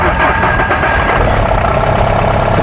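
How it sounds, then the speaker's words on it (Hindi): Mahindra Bolero Pickup CNG engine running loud and close after a start, a steady rough idle under a continuous broadband rumble. "स्टार्ट हो गई गाड़ी।"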